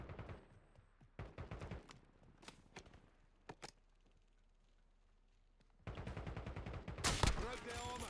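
Video game gunfire in a Warzone match, scattered sharp shots early and then a loud rapid burst of automatic fire near the end, with a voice speaking briefly between.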